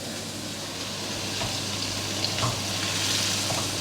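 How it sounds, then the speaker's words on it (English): A tomahawk steak sears in a smoking-hot pan with olive oil, giving a loud, continuous sizzle and frying hiss that holds steady throughout, with a few faint clinks and no talking. "this pan's hot, literally smoking hot. There's a little bit of olive oil in there. So I'm simply going to put the steak in."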